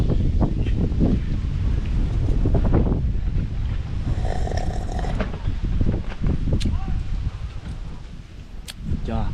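Strong wind buffets a campsite near Sam Lan waterfall, rumbling gusts with heavy low noise hitting the microphone, rising and falling under occasional rustling and a voice speaking in the background.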